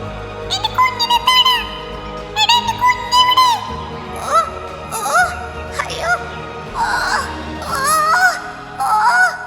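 Harsh, nasal cawing calls of a crow come in repeated bursts, loud and close, alternating with a speaking voice in a children's story.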